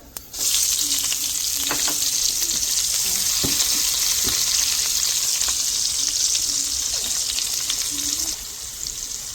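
Steady, loud sizzling of asafoetida, chillies and sesame seeds crackling in hot oil, with a few sharp pops and stirring clinks throughout, no voices.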